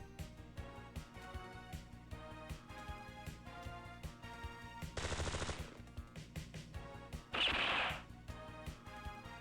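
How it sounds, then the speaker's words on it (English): Strafing-run gunfire in the video game Super Robot Wars Alpha Gaiden, two loud rapid machine-gun bursts over a pulsing, repetitive game music track. "So he goes in, does a strafing run"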